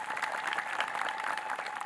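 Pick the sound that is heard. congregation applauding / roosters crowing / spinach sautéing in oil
congregation applauding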